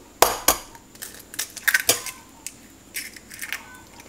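Raw eggs being scrambled in a bowl before freezing for baking, a quick series of light clinks and taps of utensil against bowl in uneven bursts, close and fairly faint, no talking.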